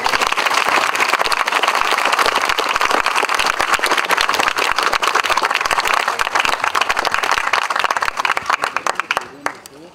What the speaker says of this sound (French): Nous applaudissons bien fort.